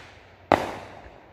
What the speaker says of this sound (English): fireworks celebration, July 3rd.